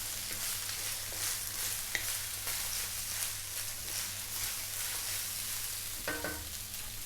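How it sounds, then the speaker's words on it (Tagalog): Chicken mushroom fried rice with spring onions is stirred in a hot pan, a quiet, even sizzle with faint scraping and a short clatter near the end. "Haluin ko lang sandali."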